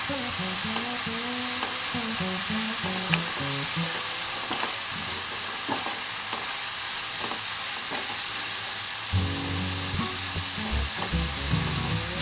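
Sliced onions sizzle and fry in a pan for fish korma, a steady close crackle with occasional stirring scrapes and clinks.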